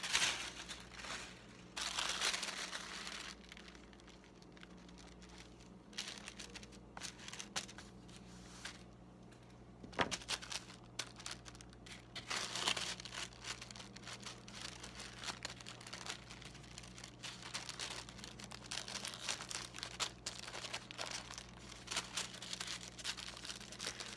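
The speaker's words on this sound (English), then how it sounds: "now I'm going to lay down the tissue paper" Tissue paper laid and smoothed over glue on a handmade dragon book cover, soft close crinkling and rustling with scattered crisp crackles, no talk.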